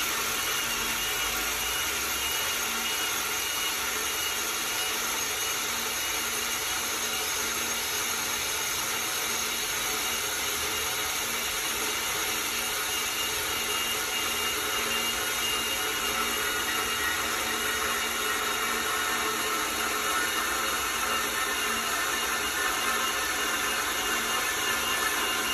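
An AXXAIR pipe and tube saw runs steadily while cutting stainless steel, giving a continuous, even mechanical whir and hiss held at a constant loud level throughout with no talking.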